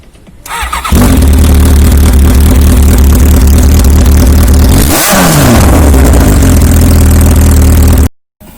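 A motorcycle engine starts and runs loud and raw without an exhaust, with one sharp rev midway before it shuts off.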